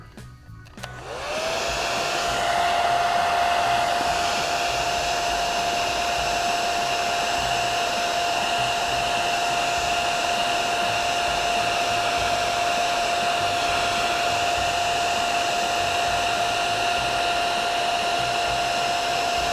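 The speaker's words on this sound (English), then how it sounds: "So we'll take the hair dryer and get those out." A hair dryer switches on and blows steadily on vinyl wrap to remove air bubbles, with a loud, constant whine and rushing air that holds for the whole stretch.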